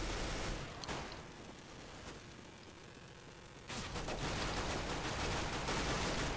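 Gunfire in CS:GO Arms Race, a burst pistol and P2000, coming in scattered shots early, then a steady rapid rattle of fire that fills the latter half.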